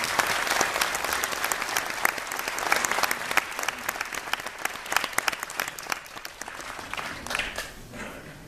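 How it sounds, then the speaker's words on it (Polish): A crowd at a benefit event gives Włodek warm, continuous applause, with crisp individual claps standing out from the steady mass of clapping, heard at moderate distance and easing slightly toward the end. "duże brawa dla Włodka."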